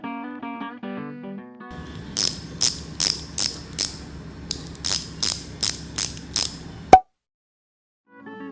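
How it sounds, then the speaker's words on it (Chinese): Sharp, evenly spaced ratcheting clicks from a 1/4-inch ratchet wrench fitted with a quick-release extension, adapter and 10mm socket, in about a dozen quick strokes with a brief pause midway, close and fairly loud. "使用到的工具有2分棘轮扳手、快拆式延长杆、2分转接头，以及10mm 套筒。"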